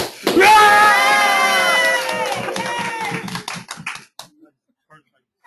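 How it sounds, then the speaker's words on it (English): A small group of people cheering and shouting loudly on cue for a digital marketing talk, a burst of voices that holds for about three seconds and then fades into scattered shouts and claps. "Everybody cheer really loud."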